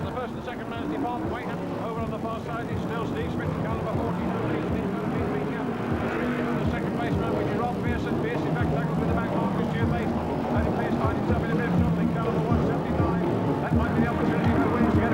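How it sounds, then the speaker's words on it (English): BriSCA Formula 1 stock cars race the final lap at Stoke, engines roaring steadily in a dense, continuous pack noise, with a commentator talking over the racket throughout. "a depleted entry of Formula 1 stock cars raced at Stoke, scene of the year's most exciting last lap"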